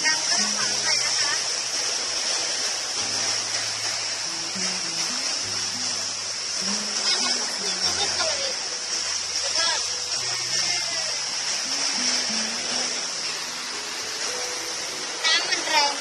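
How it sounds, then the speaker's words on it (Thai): Loud, steady rushing of a waterfall pouring over large rocks fills the whole stretch as a constant roar, with someone talking over it. "เราก็อยู่ที่น้ำตกแล้วถ้าเสียงดังก็ต้องขออภัยนะคะ"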